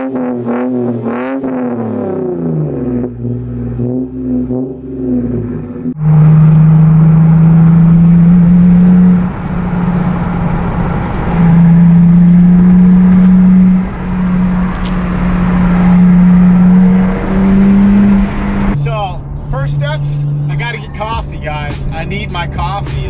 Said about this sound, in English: if you're outside in front of the exhaust, it's loud as hell, but from inside the car it sounds really nice